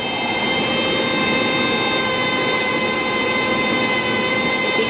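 Dremel rotary tool polishing a wet Petoskey stone with sandpaper: a loud, steady high-pitched motor whine with a buzzing edge, held constantly and close.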